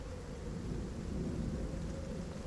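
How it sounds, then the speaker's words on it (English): A storm rumbles in low and steady beneath light falling rain, a continuous dull roll with no separate cracks. "There's a storm ahead. It's now mixing with the light rain that is falling."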